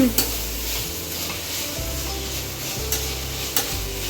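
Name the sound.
stirring ginger garlic paste frying in pan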